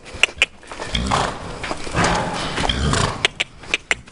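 A horse galloping on a lunge line, a steady rhythmic drumming of hooves on the ground with sharp clopping hits, close and fairly loud, with no talking.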